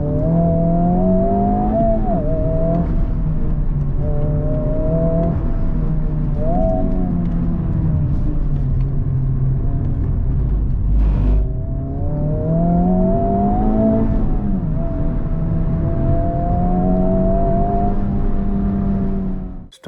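Honda Civic Type R FL5 engine revving hard and alone, its pitch climbing and falling repeatedly through gear changes, loud and close throughout.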